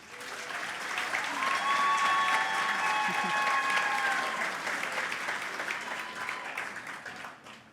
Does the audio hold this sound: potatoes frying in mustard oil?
no